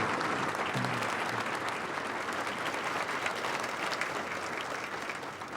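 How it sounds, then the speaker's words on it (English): An audience at an awards evening applauds steadily for several seconds, a dense, even wash of clapping that eases slightly toward the end. "I know, you're all clapping for the cookies."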